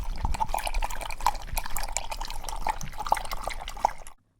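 Animated scene of a man drinking from a river: soft liquid drips and splashes with small gulping trickles, fairly quiet and steady, ending abruptly in silence.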